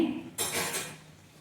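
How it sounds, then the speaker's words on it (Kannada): A single soft rustling clatter as chopped spinach is dropped into a metal pot, short and close. "ಇನ್ನು ಇದನ್ನು ಒಂದು ಪಾತ್ರೆಗೆ ಹಾಕ್ಕೊಳ್ತೇನೆ"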